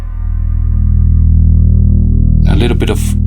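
Sustained low drone from a Behringer TD3-MO through a Trinity pedal's shimmer setting with a very low filter cutoff, steady and loud, ending with someone speaking over it.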